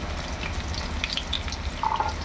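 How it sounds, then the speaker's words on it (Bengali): Potatoes frying in oil for a village-style Bengali labra, giving a soft, steady sizzle at low level with faint crackles and a brief brighter hiss near the end. "তো আমরা আলুগুলো ভেজে নিচ্ছি"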